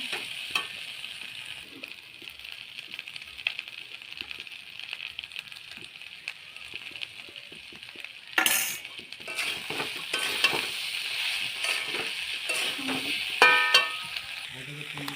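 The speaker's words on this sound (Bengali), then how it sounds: "মশলাটা আলু আর এঁচড়টা ভালো করে কষানো হয়ে গেছে" Young jackfruit and potato with spices being stir-fried in a pan, a soft steady sizzle with scraping stirs and a few louder clatters of the utensil, heard close.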